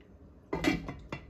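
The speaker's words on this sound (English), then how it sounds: "I'm just going to cover my pot" A metal lid clanks down onto a cooking pot of peas in water, a couple of sharp clinks close by, then it settles.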